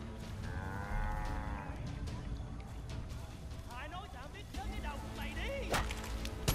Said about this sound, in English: Oh, it's deers, man. I thought that was some kind of weird cow.